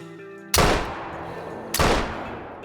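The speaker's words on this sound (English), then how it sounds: "let's drop this guy using the 470" Two loud, sharp gunshot blasts from a powerful .470 hunting rifle in the Call of the Wild game, each with a sudden crack and a long decaying echo, spaced a bit over a second apart.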